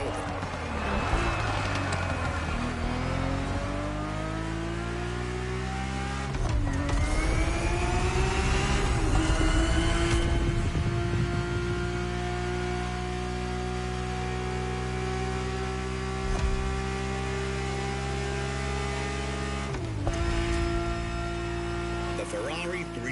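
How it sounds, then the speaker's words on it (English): A Ferrari 365 GTB4 engine drives in the video game The Crew, its loud droning note rising through several gear shifts, dropping and climbing again, steady and close over a long stretch. "The Ferrari 365 GTB4 is the perfect vehicle for you to experience Ferrari racing as it felt back in the 70s"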